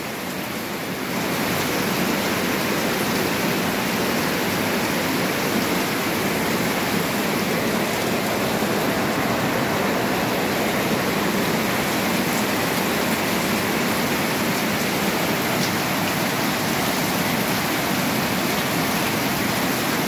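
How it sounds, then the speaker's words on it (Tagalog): Heavy rain pours down in Negros, Philippines, a dense, steady roar of water that stays loud and unbroken from start to finish, with no voices. "Grabe yung lakas ng ulan, oh."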